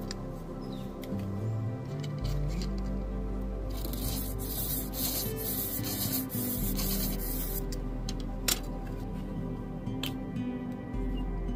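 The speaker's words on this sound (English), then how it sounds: "We're squaring off the ends of the shaft on both sides." Carbon arrow shaft ends are squared off on a self-built cutoff wheel: a steady motor hum runs under a close, continuous grinding rasp that swells and eases as the shaft meets the wheel.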